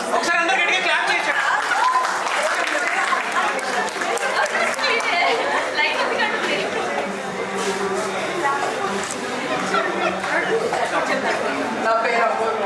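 Guests at a first birthday party clap loudly for a sustained stretch, with lively crowd chatter and voices mixed throughout.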